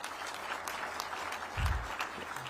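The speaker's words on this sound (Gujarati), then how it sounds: "735 છોકરાઓ ટોટલ સ્ટાર્ટઅપમાં જે ભાગ લીધો છે, બધા માટે એક વખત તાળી થઈ જાય." Audience applause for students taking part in a startup program at an education review centre in Gandhinagar, a steady crowd clapping throughout with a low thump partway through.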